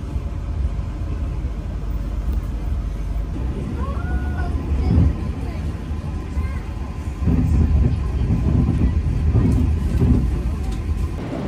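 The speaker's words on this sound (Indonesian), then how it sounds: "Ini kereta lagi perjalanan dari stasiun Wlingi menuju ke stasiun Kesamben" A Majapahit economy-class passenger train runs between Wlingi and Kesamben stations, giving a steady, loud, low rumble that continues throughout and grows slightly heavier in the second half.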